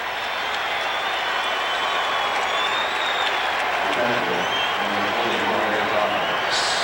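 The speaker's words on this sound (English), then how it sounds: "Listen to this crowd. We're at Shea Stadium." Large baseball crowd at Shea Stadium during a 2000 Yankees at Mets game, a constant loud roar and cheer filling the ballpark, with a broadcaster's voice talking over it.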